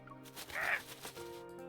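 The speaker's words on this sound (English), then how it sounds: "As if expressing his grievances, the crow screeches. It sounds like a metal spoon is being scrapped against a metal bowl." A crow in a video game lets out a harsh, scraping screech that sounds like a metal spoon dragged across a metal bowl. The single rasping cry rises over a steady game music bed, with no talk over it.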